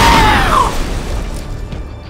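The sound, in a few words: explosion killing a guard in the video game Splinter Cell Conviction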